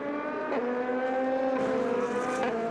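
A race car spins on the track at Silverstone during a four-hour endurance race, its engine droning steadily with rising and falling pitch shifts over constant broadband track noise.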